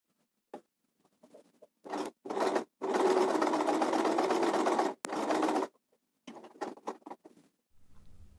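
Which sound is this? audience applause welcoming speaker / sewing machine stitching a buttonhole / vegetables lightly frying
sewing machine stitching a buttonhole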